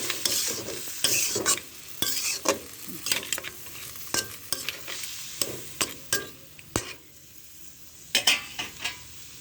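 Crab curry is sautéed in a pan with a little water, a spoon scraping and stirring in quick irregular strokes over a steady sizzle, close up and without talking.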